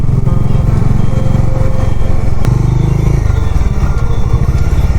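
Motorbike riding on the Yamuna Expressway near a toll gate, a loud continuous engine drone with heavy wind buffeting close to the microphone, no talk.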